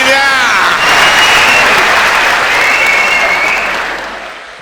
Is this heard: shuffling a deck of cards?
no